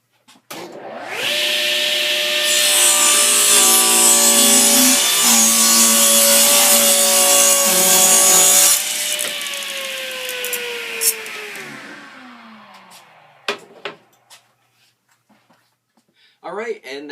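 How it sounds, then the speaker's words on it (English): A Delta 36-725 table saw rips through wood, a loud steady whine with strong harmonics lasting about eight seconds before spinning down over several more, with faint knocks at the tail. "I'm not going to lower the volume so you can hear exactly what this saw sounds like."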